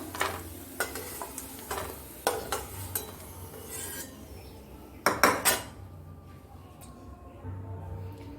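Potato pieces fry in a little oil with turmeric in a home kitchen, under a faint hiss, while a spatula scrapes and clinks against the pan in several sharp bursts.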